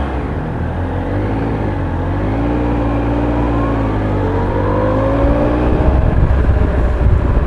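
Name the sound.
Triumph Tiger Explorer 1215cc motorcycle pulling away in third gear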